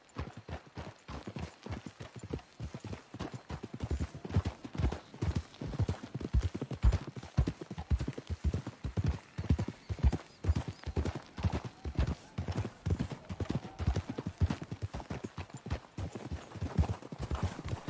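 Horses' hooves clip-clop steadily in the video game Red Dead Redemption 2, a fast, even rhythm of many close hoofbeats continuing without a break and without talk.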